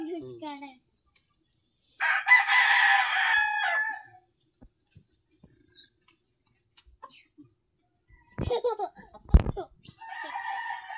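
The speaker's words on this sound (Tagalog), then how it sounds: "Get my chicken." Rooster crowing loudly nearby in a long call, followed by scattered clucks and short squawks from chickens, with quiet gaps between bursts and no talking.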